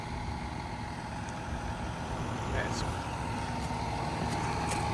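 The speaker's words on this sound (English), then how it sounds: "My birthday ride in the tractor." A John Deere 6215R tractor engine runs steadily during a slow forward crawl, giving a continuous, fairly loud broadband rumble and drone that holds even from start to finish.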